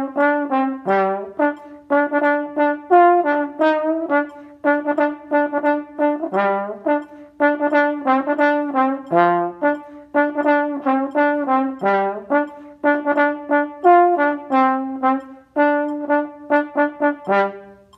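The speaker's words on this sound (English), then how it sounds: "So I'll play through it on trombone for you so you can hear exactly where your rhythms line up" A trombone plays a rhythmic passage from measure 45 of a song, with short detached notes in bursts and steady sustained phrases, close and clear with no talking.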